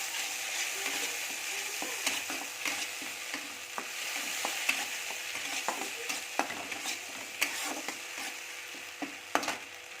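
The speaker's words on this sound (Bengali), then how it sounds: "আর এবার নেড়ে চেড়ে দেবো, এটা একটু ভাজবো" Ground spice paste frying in a pan for a paneer curry while being stirred, a steady close sizzle broken by frequent scraping clicks of the spoon against the pan, with no talk.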